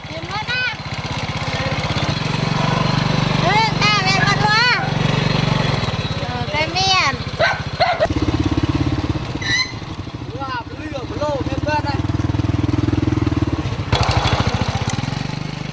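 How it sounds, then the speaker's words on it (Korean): A motorcycle engine drones steadily nearby on a path barely wide enough for one bike in rural Cambodia, revving up and down as it rides, while people talk over the noise. "오토바이 한 대가 겨우 비집고 지날 만한 길을 달려서"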